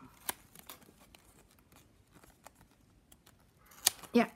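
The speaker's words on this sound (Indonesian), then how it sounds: "basket kita yang sudah jadi ya kita ini kita gunting excess eksesnya ya seperti ini" Scissors snip off the excess plastic strapping band on a finished hexagonal woven basket, giving sharp, close clicks spread across the moment and a louder cluster of cuts at the end, with faint rustling between.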